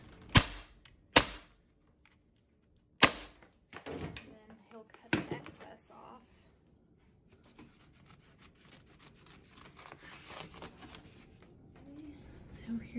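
Sharp staple-gun shots fire into fabric over a wooden bed platform built for a 5th-generation Toyota 4Runner, a few loud isolated snaps early on, followed by quieter rustling and handling.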